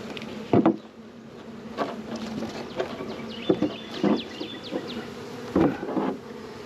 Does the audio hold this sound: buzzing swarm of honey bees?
yes